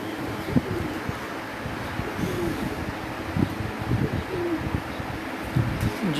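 Pigeons coo softly on a rooftop loft, their low repeated rolling calls overlapping steadily against constant wind noise, fairly close and continuous throughout.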